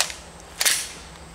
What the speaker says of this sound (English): I'm just excited to be shooting another Glock pistol because I happen to like them.